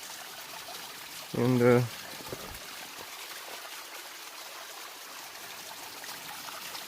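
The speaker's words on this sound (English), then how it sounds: "Nice little waterfall here" A small trailside waterfall on the Franconia Ridge trail in the mountains gives a steady, faint trickling wash throughout, with a brief spoken word near the start.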